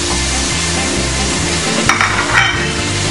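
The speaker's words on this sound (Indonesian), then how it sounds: "kita sekarang masukin udang ini. Udangnya udah dikupas dan sisain ekornya aja" Peeled prawns with tails left on go into a frying pan with chili and aromatics, making a loud continuous sizzle and crackle, with two brief sharper bursts of spitting as they land and shift.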